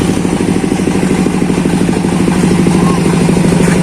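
A 10 kVA diesel generator runs at a small outdoor celebration, giving a loud, steady, close-up mechanical chugging drone with an even rhythmic clatter throughout and no breaks.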